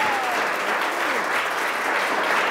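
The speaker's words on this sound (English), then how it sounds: "First, a round of applause for today's contestants willing to be up here." A short burst of steady audience applause for game-show contestants, dense clapping filling the whole moment at constant loudness.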